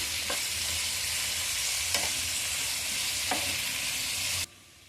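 Brinjal pieces with turmeric and salt sizzle in a pan while being stirred, with three distinct scraping strokes over a constant close fry before the sound cuts off abruptly near the end.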